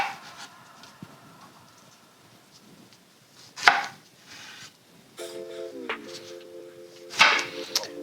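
A knife cutting jalapeño peppers on a board, with a few sharp, close chops spread out among quiet handling noise, and a faint tonal hum in the background.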